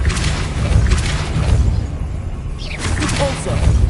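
Spell-casting in Hogwarts Legacy: repeated booming force-blast bursts with whooshing swishes, loud and dense, over a continuous low game rumble.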